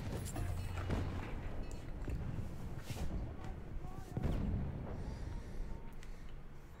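A grenade explodes in the Battlefield 1 Open Beta Rush mode, with a heavy boom around midway through a dense din of battle noise and shouted voices.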